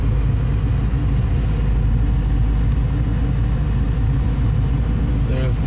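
A 2001 Chevrolet Camaro with an LS1 V8 idling, a steady low engine rumble that carries on evenly from start to end.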